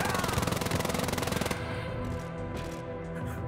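Rapid automatic gunfire in the co-op shooter Wolfenstein: Youngblood, a fast steady burst of shots filling the first half, then cutting off into a quieter game background.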